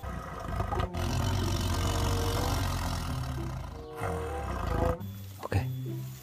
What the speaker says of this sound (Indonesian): Wow, lihat teman-teman. Ternyata ini harimau.